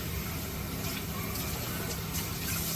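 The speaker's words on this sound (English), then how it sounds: "And then I'll rinse it out again to get the seeds out." Tap water running steadily into a bowl as it is rinsed clear of pepper seeds at a kitchen sink, a continuous close rush and splash with no break.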